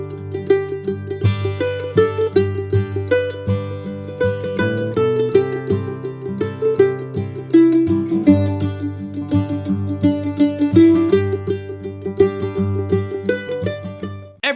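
Mandolin picks out Will the Circle Be Unbroken in a steady stream of constant eighth notes, bright plucked strings and ringing chords running evenly and close for the whole stretch, with no voice.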